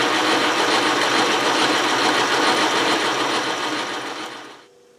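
A metal lathe takes a cut fed with the compound slide, making a loud, continuous mechanical whir and grind that holds steady for several seconds, then fades and stops just before the end.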